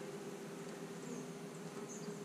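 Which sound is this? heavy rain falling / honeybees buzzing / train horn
honeybees buzzing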